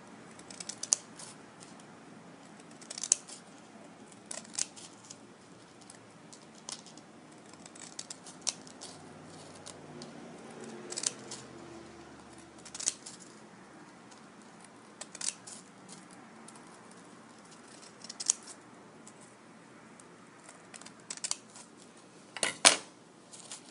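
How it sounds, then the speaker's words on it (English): Scissors snip through paper to cut grass strips for an Easter basket, a series of quiet, crisp cuts and clicks at irregular intervals close by, with no talk. "we're going to cut these about two-thirds of the way down, making grass"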